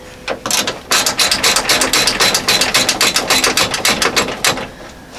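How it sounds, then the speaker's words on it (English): A ratchet wrench backs out the 10 mm bolts holding a radiator to the core support of a 1992-1997 Ford F-Series pickup, sounding as fast, close, rhythmic clicking bursts in several runs with short pauses between. "I'm going to remove these two 10 millimeter bolts that screw into the core support"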